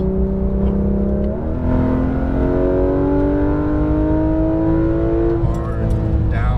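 A Porsche 911 GT3 RS goes to full throttle on a racetrack, its engine note loud and close, rising in pitch through a strong sustained pull before a brief change near the end.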